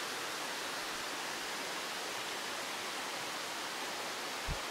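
Steady broadband rush of the Golden Waterfall at Jinguashi, Taiwan, water pouring continuously, loud and even throughout with no voices.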